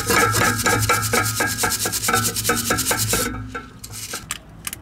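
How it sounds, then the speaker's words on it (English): A broken exhaust pipe has loose dirt and rust scraped off it before a repair bandage goes on. The strokes are close and rhythmic and rasp steadily for about three seconds, then a few separate scrapes follow. "Remove any loose dirt and rust of area to be repaired."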